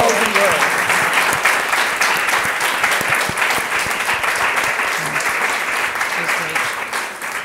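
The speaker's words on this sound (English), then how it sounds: "give them a round of applause" Loud, dense audience applause fills a room at a university diversity talk, sustained clapping from many hands that eases slightly toward the end, with a little voice underneath.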